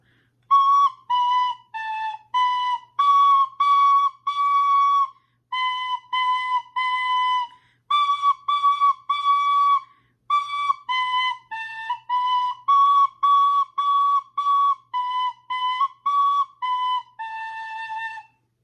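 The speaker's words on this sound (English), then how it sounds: "in our tin whistle, we just practiced playing the entire song of Mary Had a Little Lamb" A tin whistle plays Mary Had a Little Lamb slowly, note by note, with short pauses between phrases, clear and close.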